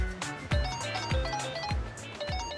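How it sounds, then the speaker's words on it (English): A phone rings inside the video game Like a Dragon: Infinite Wealth, sounding as a repeating electronic ring with about four evenly spaced bursts over a soft in-game background. "is that your phone?"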